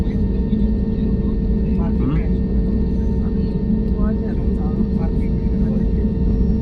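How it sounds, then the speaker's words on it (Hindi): An Akasa Air airliner taking off at Guwahati airport, heard as a constant, loud, low rumble and whine of jet engines that holds steady throughout. "ये देखिए आकाशा टेक ऑफ हुआ"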